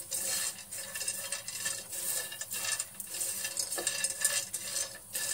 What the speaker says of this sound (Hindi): ग्राउंडनट्स, मूंगफली। सबको हम थोड़ा सा भून लेंगे।